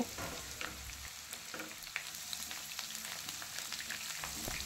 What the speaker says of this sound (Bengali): মিডিয়াম ফ্লেমে আরও কিছুক্ষণ সময় ধরে সব সবজিগুলোকে ভালো করে ভেজে নেব